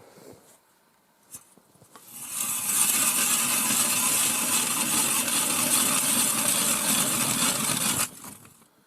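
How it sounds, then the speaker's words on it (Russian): A new ice auger drills through winter river ice, starting after a few faint knocks and then holding a loud, steady grinding whir for about five seconds before it stops abruptly. "сейчас попробуем, как будет там сверлить новый ледобор."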